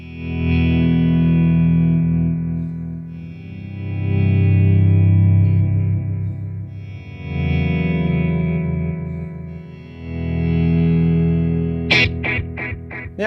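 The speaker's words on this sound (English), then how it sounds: "I've got quite a lot of repeats and a long delay" Clean electric guitar chords swell in and out through a BOSS DM-2w delay pedal set to a long delay with many repeats, trailing long echoes that wash together, then a few sharp plucked notes ring out near the end.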